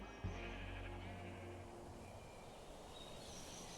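Sheep bleat in the block-building game Minecraft, a single low, drawn-out bleat at the start over a steady ambient background that carries on alone afterward.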